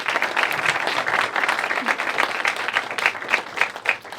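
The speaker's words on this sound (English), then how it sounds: "Can we have another round of applause for everyone here today?" Audience applause for young presenters at a Junior Mayor's Association presentation day in Cleveland: a dense, steady wash of many hands clapping close by, holding strong throughout with no talk over it.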